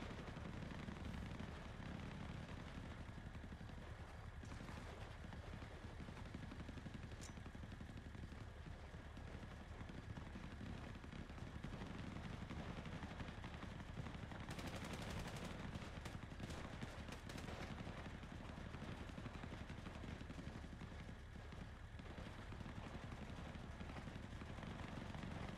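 A smoking helicopter and gunfire in a FiveM GTA role-play game, a dense, loud, continuous roar of rotor and engine noise with bursts of shots, running unbroken for the whole stretch.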